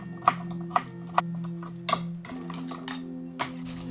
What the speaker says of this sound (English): now we're dicing up our zucchini into the same size pieces, roughly about 1 centimetre cubes